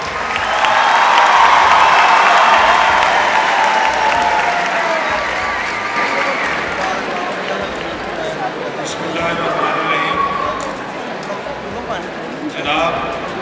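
A big audience at a university hall in Lahore applauds and cheers as Ahsan Iqbal is welcomed onstage, loud clapping swelling early and easing off over thirteen seconds, with voices in the crowd.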